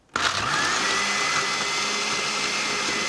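Loud blender spinning nuts into nut milk, starting abruptly and holding a steady dense roaring whir close up, with no voices.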